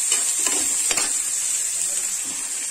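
Green onions stir-fry in a hot pan with a steady, bright sizzle, while a spoon scrapes and stirs in soft bursts close by.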